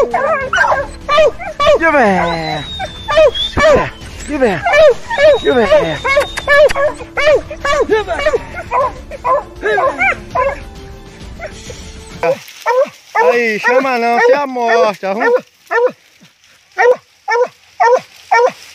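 An American foxhound hunting dog barks and yips repeatedly in close, rapid bursts during a hunt for armadillo and paca, with someone shouting over the barking.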